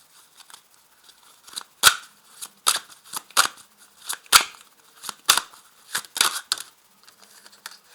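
Tarot cards are drawn and laid out one by one on a table, producing a series of crisp, close snaps and slaps in an uneven rhythm, with no talking.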